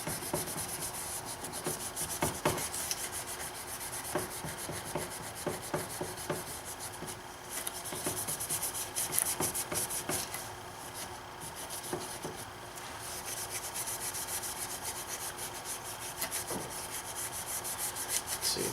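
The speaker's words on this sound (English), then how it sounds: "You really only have to clean the sealing surface and remove that residual gasket." Leftover gasket material being scrubbed off the sealing surface of a BMW N52 six-cylinder oil filter housing: steady close rubbing and rasping with scattered sharper scrapes, continuous and moderately quiet, no speech.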